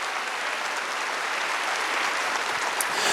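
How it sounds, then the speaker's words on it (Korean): A church congregation at a Wednesday worship service applauds on the pastor's request, producing an even, continuous patter of many hands clapping at moderate level from across the room. "박수 좀 쳐봐요."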